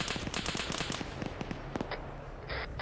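Rapid bursts of automatic gunfire in an Arma 3 battle as a technical's gunner is targeted, loud crackling shots in quick strings with a few sharper single reports and a later burst.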